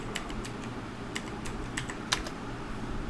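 Light, sparse keystrokes on a computer keyboard while entering a command in a command prompt, faint clicks over a steady background hum.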